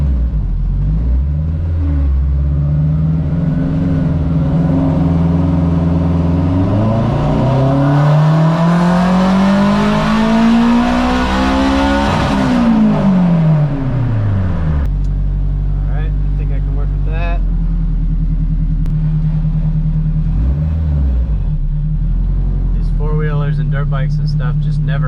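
A turbocharged Acura RSX engine with about a quarter million miles climbs in revs during a tuning pull, its pitch rising steadily to a loud peak and then falling back to idle, with a person talking over the lower rumble afterward.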